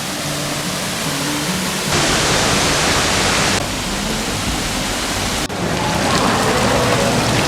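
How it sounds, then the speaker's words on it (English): A waterfall at Longwood Gardens roars as a constant, loud broadband rush of falling water, with a faint low hum beneath it. "We got a waterfall here in Longwood Gardens."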